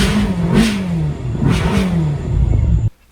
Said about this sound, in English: The music is the symphony of the engine.